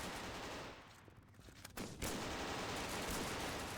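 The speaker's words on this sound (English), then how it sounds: "Ooh, there is an airstrike." Airstrike explosions and gunfire in a video game, a dense, sustained burst of blasts and shots that dips briefly in the middle, then returns loud and continuous to the end.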